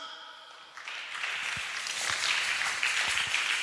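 A church congregation at a Sunday children's service breaks into applause, a dense wash of many hands clapping that builds steadily and stays loud to the end, with a few sharper claps standing out.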